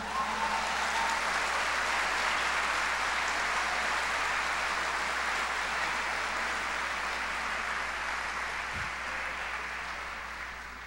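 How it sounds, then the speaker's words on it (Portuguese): A church congregation applauds in one sustained, dense wash of clapping that holds steady throughout and thins slightly toward the end, with no voices on top. "Você pode aplaudir Jesus?"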